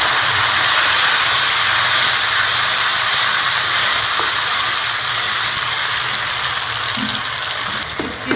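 Tomato puree sizzling in a hot pan with fried onion and garlic for a kaleji masala recipe: a loud, continuous hissing fry that stays steady throughout, with a few faint clinks near the end.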